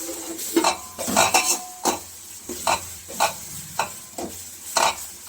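Ginger-garlic paste and onions fry in oil for chicken biryani, stirred with about a dozen bursts of spatula scraping against the pan over a low sizzle, close and distinct.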